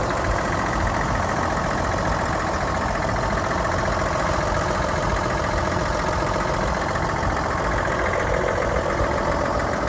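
A 1957 Ford F100 Styleside short-bed pickup engine idles steadily after a cold start, a loud, even, continuous rumble with a fine rapid firing texture, close by and with no voices.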